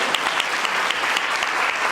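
Enthusiastic clapping for a woman on stage at a network marketing company training event, a steady dense round of applause from a crowd lasting a couple of seconds, with no talking.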